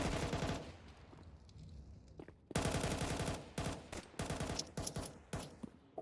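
Rapid automatic gunfire in a video game, loud bursts of rattling shots separated by short pauses, with no speech over them.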